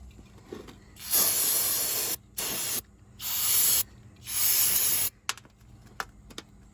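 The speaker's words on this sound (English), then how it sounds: "We're just washing those plastic chunks down." A spray can hisses in four long bursts, washing plastic chunks off a 79cc Predator small engine, each spray loud and close, separated by short silences, followed by a few faint clicks.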